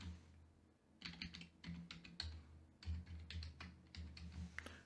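Password being typed on a computer keyboard, a quick irregular run of soft clicking keystrokes, close but quiet, over a low background hum with no talking.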